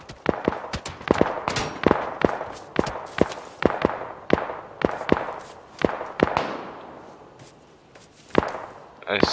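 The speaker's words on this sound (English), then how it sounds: "You're getting shot at." Gunfire in PUBG: a rapid run of sharp, loud cracking shots in uneven bursts, some close together and some spaced apart, continuing through to the end with a faint voice underneath.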